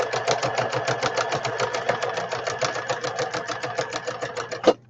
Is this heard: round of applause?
no